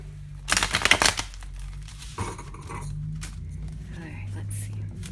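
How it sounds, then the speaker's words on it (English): Tarot cards being shuffled by hand, a short burst of crisp riffling and flicking near the start followed by softer handling and rustling, with a quiet voice around it. "I'll just shuffle it once."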